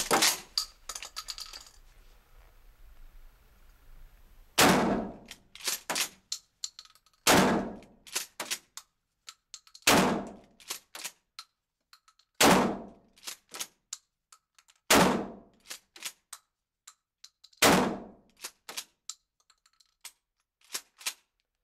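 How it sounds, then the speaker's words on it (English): A Mossberg 500 shotgun fitted with a new buttstock is fired downrange, with eight loud, sharp blasts at roughly two-and-a-half-second intervals, each followed by brief clacks of the pump action and short echoes. "We're going to fire some shots"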